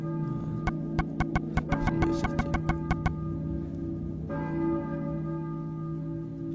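A church bell rings in the video game Silent Hill, around a dozen evenly spaced strikes sounding loud over a droning ambient background. Then the strikes stop while the hum carries on.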